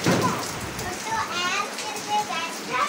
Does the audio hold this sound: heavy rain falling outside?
yes